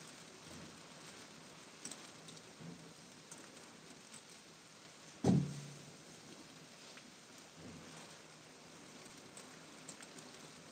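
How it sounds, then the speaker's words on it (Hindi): Heavy rain hisses steadily through a windy storm near a cowshed, with a sharp crack of thunder in the middle of the stretch and a faint rumble later; nobody speaks. "ये देखिए दोस्त कितना तेज हवा आंधी तूफान के साथ ये बारिश आया है।"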